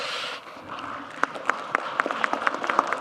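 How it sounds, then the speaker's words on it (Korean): An audience at a public town hall meeting in Ulsan breaks into applause, starting as a soft wash and turning into sharp, evenly spaced claps that ring out clearly for a couple of seconds. "왜 고향 사람이라고 박수 주는 거예요?"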